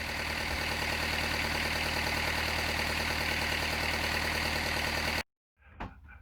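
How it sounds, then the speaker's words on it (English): A Perkins 4108 marine diesel engine runs at a steady, loud, rhythmic idle with a knocking chug, then cuts out abruptly, followed by a brief faint clatter. "once we had the engine up and running"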